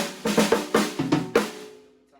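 A tightened snare drum struck about six times in quick, uneven succession, each hit crisp and ringing with a short tonal decay, the last note fading out.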